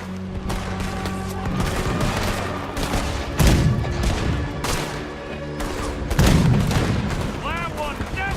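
Cannon fire in the Red Dead Redemption 2 Guarma chapter, aimed at a boat's water line: loud, heavy booms land around the middle and near the end over a constant crackle of rapid gunfire and battle noise.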